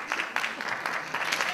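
A convention audience at a cosplay contest applauds costumed performers, a continuous burst of clapping mixed with voices.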